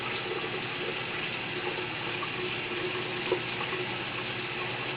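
Running water rinsing a toothbrush for a turtle's shell care, a steady splashing stream close by with no talk throughout.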